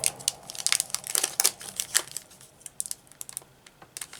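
A plastic bag holding affirmation cards from a planner box crinkles and rustles as it is opened, with close, quiet, irregular bursts of crackling.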